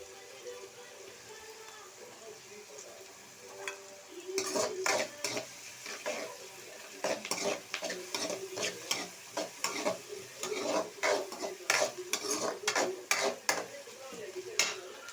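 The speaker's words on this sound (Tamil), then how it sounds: "பாருங்கள், வெங்காயம் கொஞ்சம் நல்லா வதங்கி வந்துருச்சு" Onions frying and sizzling in a pan for a half-kilo squid dish, with a steady hiss and a run of sharp metal scrapes and clinks from stirring that grow busier and louder over time.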